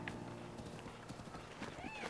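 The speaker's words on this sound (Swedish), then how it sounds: "Hit med häst." Horse hooves clip-clop at a quick, even pace in Zelda: Breath of the Wild, with a brief whinny-like tone near the end, heard quietly under faint game ambience.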